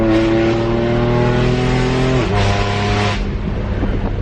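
A BMW F82 M4 with an Armytrix valved exhaust holds a steady high drone, then drops abruptly as it downshifts, with rumbling pops and burble following.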